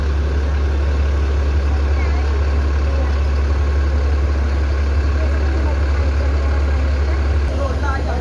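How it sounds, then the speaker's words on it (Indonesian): An ALS bus (LS 377) idles at a bus depot before an afternoon departure, a continuous heavy low engine drone, near and steady throughout, with a busy background of faint chatter and activity. "Mesin LS 377 telah dihidupkan untuk persiapan keberangkatan sore"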